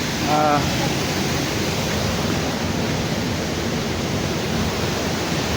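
Steady broadband roar of the waterfall at May Falls fills the scene, loud and unbroken, with a brief voice near the start.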